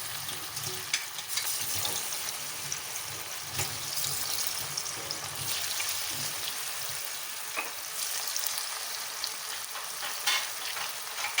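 Paneer kabab pieces frying in hot oil at home, a continuous crackling sizzle with occasional stirring and spatter, steady and close with no talk.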